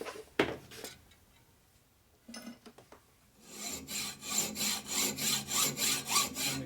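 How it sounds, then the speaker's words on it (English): A hacksaw blade cuts a groove in a motorcycle engine case: a few scattered scrapes and knocks, then a run of about ten rhythmic back-and-forth rasping strokes, close and clear with no talk. "So now the hacksaw blade will hopefully stay in that groove."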